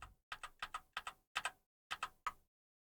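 Computer keyboard keys tapped in a quick series of about eight crisp clicks, close and alone, with brief gaps between presses.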